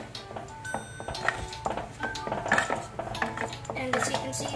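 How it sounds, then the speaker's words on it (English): Utensil clinking against a glass or cup while heavy cream is mixed into a caramel frappuccino, a close, irregular run of light metallic taps and scrapes without talk. "let's go ahead and mix it"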